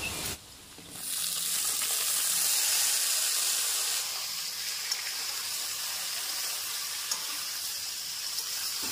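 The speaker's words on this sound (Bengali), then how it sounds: "ওল ডাঁটাগুলিকে দিয়ে খুব ভালোভাবে একটু নাড়াচাড়া করে নিয়েছি" Elephant foot yam stalks hit hot oil with fried potatoes in a pan and set off a loud, steady sizzling hiss. The hiss swells after a second and keeps going, with faint stirring underneath.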